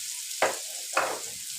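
Onions soften in a hot pot with a steady low sizzle. Two short stirring scrapes stand out close over the frying hiss.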